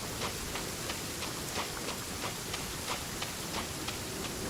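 Rain falling in Fontaine in the video game Genshin Impact, a dense even hiss of steady rainfall with faint regular ticking running through it.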